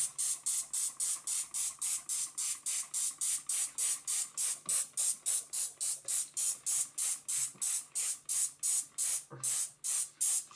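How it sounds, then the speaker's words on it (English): A spray bottle pumps quick, steady bursts of fine mist over a tomato seed tray, dozens of short hissing sprays in an even rhythm with no talking. "and then I'm going to spray the tray again"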